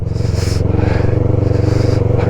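A Yamaha R3 motorcycle crawls along a snow-covered mountain road on Zojila Pass. Its engine gives a loud, close, even rumble that pulses steadily, with occasional higher scraping noise above it.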